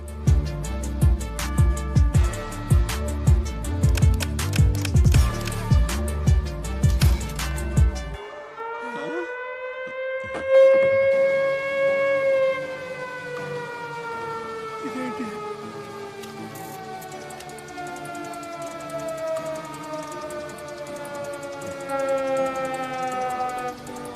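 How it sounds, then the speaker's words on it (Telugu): After a stretch of loud rhythmic music, a wailing siren rises and slowly falls, strong and sustained, fading gradually as music returns faintly beneath it. "సైరన్?"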